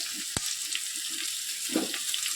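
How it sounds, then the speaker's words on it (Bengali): Pumpkin pieces dropped into hot oil after frying papaya, giving a continuous hissing sizzle with a sharp knock near the start and a brief stirring shuffle later. "পেঁপেটা লাল করে ভাজার পর এবারে আমি কুমড়োগুলো ভালো করে দিয়ে দেবো।"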